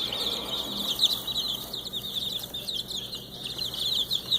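Older chicks, a couple of weeks old, chirp and cluck continuously in a steady high twittering chorus, with some wing flapping and small scuffles close by.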